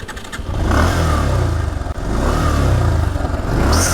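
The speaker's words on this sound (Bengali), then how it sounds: "তো আমরা একটু গাড়ির ইঞ্জিন সাউন্ডটা শুনি যে এটা কেমন ইঞ্জিন সাউন্ড দেয়।" A Bajaj Pulsar 150 motorcycle engine running and revving, a loud buzzing mid-range drone that swells, dips briefly near the middle, then rises again, with no talking.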